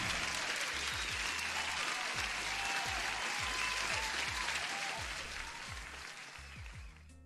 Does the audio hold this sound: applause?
yes